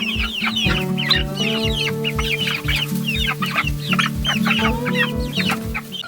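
Young growing chickens in a crowded pen cluck steadily, with repeated overlapping calls and an occasional longer crow-like note, close and moderately loud.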